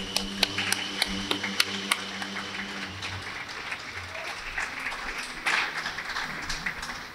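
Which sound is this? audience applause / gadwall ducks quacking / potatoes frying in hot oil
audience applause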